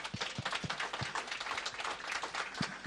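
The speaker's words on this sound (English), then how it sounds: "Wonder if we could just give everyone a round of applause." A small audience at a hospitality industry talk on data-driven dining claps, quiet and somewhat sparse, with individual claps standing out irregularly against a soft wash of applause.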